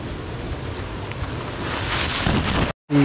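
A river stream rushes steadily outdoors with a broad hiss and wind buffeting the microphone, then cuts abruptly to silence before resuming briefly.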